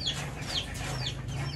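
Golden Buff hens cluck repeatedly close by over a steady low hum, their short calls rising and falling throughout with no voices.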